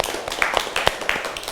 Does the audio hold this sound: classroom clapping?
yes